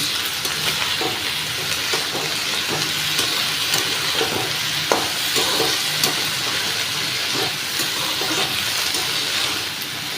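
Spinach greens frying with garlic are stirred steadily in a pan, a loud, close sizzle broken by repeated scraping and clinking of the spoon for about ten seconds, without speech.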